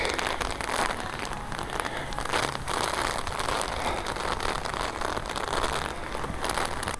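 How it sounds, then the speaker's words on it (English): Rain mixed with hailstones falls outdoors in pitch-black conditions near an Edinburgh park, a steady dense patter and crackle of hits on surfaces continuing evenly throughout. "Right, we've got hailstones, folks."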